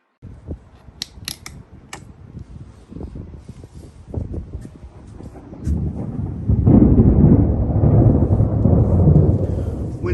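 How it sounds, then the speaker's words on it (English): Thunder during a severe thunderstorm in Broken Arrow, Oklahoma, a few sharp close cracks at first, then a deep rumbling roar that builds and holds loud, with rain hissing under it. "Severe thunderstorm warning."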